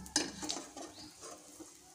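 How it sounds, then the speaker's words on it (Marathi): Edible gum (dink) fries in ghee in a pan, giving a quiet, close sizzle with a sharp clink or scrape near the start and soft stirring movements throughout. "आपण अशाच प्रकारे बाकीचं डिंकसुद्धा तळून घेऊया। आणि शक्यतो तुपामध्येच तळा तुम्ही"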